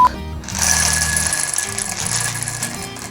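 An Ikawa home coffee bean roaster powering on: a short electronic beep, then a loud, steady mechanical whir with a high tonal hum that runs on continuously up close, with no talking.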